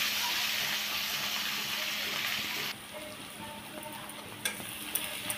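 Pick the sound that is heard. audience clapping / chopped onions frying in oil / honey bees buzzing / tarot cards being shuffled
chopped onions frying in oil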